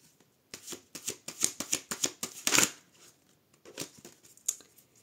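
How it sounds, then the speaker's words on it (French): Oracle cards being shuffled and cut by hand, a run of crisp riffling flicks and slaps in quick bursts, then a pause and a few sparser card snaps, close and fairly quiet with no talking. "Allez, du coup on va faire une petite coupe avec mon oracle."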